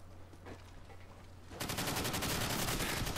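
Rapid automatic gunfire in Call of Duty 4: Modern Warfare erupts midway, a dense, fast stream of shots that continues steadily to the end after a quieter stretch of background noise.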